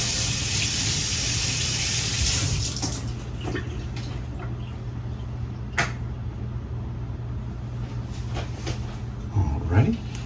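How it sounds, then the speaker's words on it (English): Peeled boiled eggs are rinsed under a kitchen tap, a steady hiss of running water that fades after the first few seconds into a quieter room with small knocks and handling sounds. "Now I'm going to rinse these off real quick."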